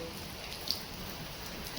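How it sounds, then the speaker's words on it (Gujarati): Steady, soft rainfall in Chobari, Gujarat hisses evenly throughout, a faint continuous patter with no voices and one tiny drip-like tick. "સવા ત્રણ વરસાદ ચાલુ થઈ ગયો હતો અત્યારે સવા પાંચ થઈ ગયા લગાતાર બે કલાક"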